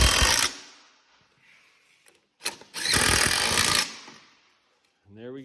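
A power tool fastens cab bolts back onto studs in two loud, close bursts of buzzing rattle with a quiet gap between them. A short voice-like tone follows at the end.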